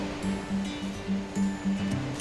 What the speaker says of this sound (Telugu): ఈ చుట్టుప్రక్కల మొత్తం జలపాతాల శబ్దంతో మారుమోగిపోతుంది.